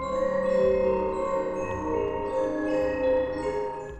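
Music Box 2 tune played by Freddy in a Five Nights at Freddy's fangame, soft sustained chiming tones drifting in a slow, hazy melody with a low hum beneath, quiet and with no voices.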